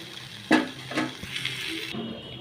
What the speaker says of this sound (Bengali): এবার একটু ভেজে নিয়ে আরেকটু তারপরে জল দিয়ে দেবো